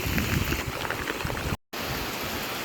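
Steady rain pours down over a garden home beside a pond, a dense continuous hiss of drops on surfaces with a brief break partway through, no voices.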